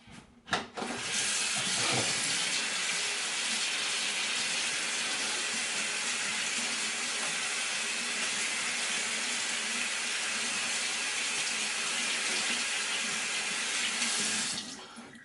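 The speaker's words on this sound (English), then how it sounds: "All right, wash my hands." Tap water runs steadily from a faucet into a sink for handwashing, a loud continuous gush that starts abruptly and stops near the end.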